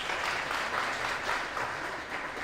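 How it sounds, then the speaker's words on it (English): Audience applause at an International Women's Day gathering, a dense, steady wash of clapping from many hands that holds evenly through the whole stretch with no voices above it. "Come on, let's clap for her."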